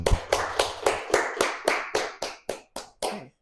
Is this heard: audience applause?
yes